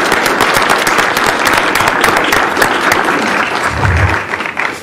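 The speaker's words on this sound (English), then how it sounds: "How about a round of applause for Dave?" Audience at a Douglas County commissioners business meeting applauding, a dense burst of many hands clapping that fills most of the clip before tapering off, with a brief low thump near the end.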